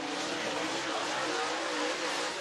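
A dirt-track race car roars past at Duck River Raceway Park in Lewisburg, Tennessee, a loud, continuous engine wash swelling and holding across the clip with no talk.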